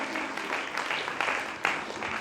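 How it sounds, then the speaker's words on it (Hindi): An indoor audience claps in a dense, steady burst of applause, moderately loud and close, with no voices rising above it. "ताली होनी चाहिए बहुत जोरदार"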